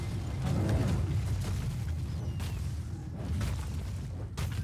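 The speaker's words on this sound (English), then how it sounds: "with a cunning blow, that keep was destroyed" Heroes of the Storm keep being destroyed: dense low rumbling booms and crashing impacts roll on continuously, with a few sharper bursts scattered through, loud and close, with no voices.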